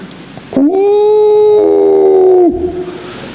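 A voice imitates jackals howling at night in a field, giving one loud, sustained, rising howl of about two seconds, close and alone.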